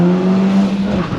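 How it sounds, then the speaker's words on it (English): A car with a manual gearbox and a 1.4-litre engine downshifts into first gear on a rainy road, the exhaust giving a loud, close engine drone that falls in pitch as revs shift, with no voices. "the sound of the exhaust sounds quite good"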